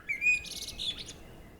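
A spring blackbird sings one short, clear phrase of bright fluting notes followed by a higher twitter, heard alone against a quiet outdoor background.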